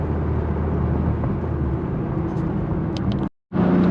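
Infiniti M56 with PPE headers and exhaust running through a tunnel, a loud steady engine drone and exhaust roar with road noise, briefly cutting out near the end before resuming.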